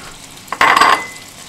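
A quick clatter and rush of Brussels sprouts being tossed in a hot frying pan, sizzling briefly and loudly before fading away.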